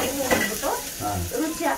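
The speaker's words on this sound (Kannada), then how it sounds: "ಫಸ್ಟ್ ತರಕಾರಿ ಹಾಕ್ಬಿಟ್ಟು ಎಣ್ಣೆಲಿ ಹುರ್ಕೋ" Vegetables fry in hot oil in a home kitchen with a soft continuous sizzle, and a utensil clinks briefly against the pan now and then.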